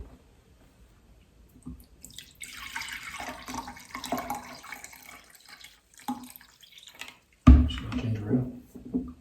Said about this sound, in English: So we're gonna pour it in this mug just so you guys can see the toxins that come out of it when it's done.